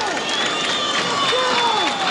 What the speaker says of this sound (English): Wow, that is one wave of applause.